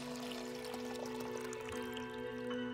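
Water pours steadily in the game Lost Words: Beyond the Page, a soft, continuous stream running alone under a faint steady tone.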